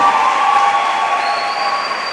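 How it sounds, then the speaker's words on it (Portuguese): A steady wash of church congregation clapping fills the space, dense and continuous with no pauses, loud and sustained. "Aplauda mais forte"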